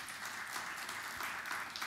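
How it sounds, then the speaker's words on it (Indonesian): A church congregation gives faint, distant applause, a soft and even wash of clapping throughout a short moment. "Tepuk tangan yang meriah bagi Tuhan Yesus."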